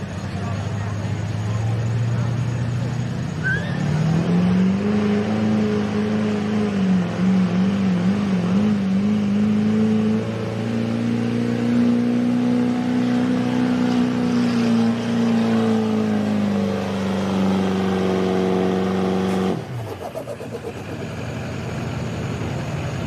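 A test truck at a truck pull in Amelia, Virginia, dragging a changed sled, its engine revving loud and sustained, pitch wavering then climbing and holding before cutting off abruptly, followed by a lower idle.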